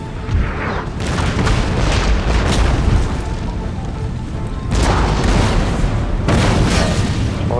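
Heavy booming artillery fire and explosions ring out in Total War Empire, a dense run of loud, overlapping blasts carrying on continuously with no voices.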